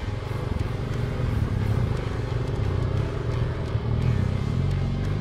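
A motorcycle engine drones continuously and loudly while labouring on an uphill mountain ride toward Iztaccihuatl, with rough, strained rumble and clattering mechanical noise throughout, no clear revving peaks.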